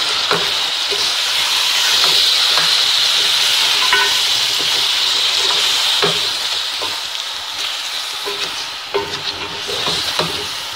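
Yogurt goes into a pan of Sindhi fish pulao, where it sizzles and hisses steadily and loudly, with occasional soft stirring clicks and no talk.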